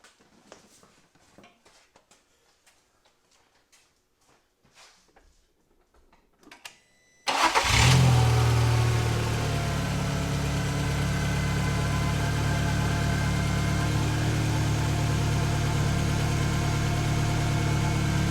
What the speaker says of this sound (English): We'll go turn it over and see if it fires up and runs.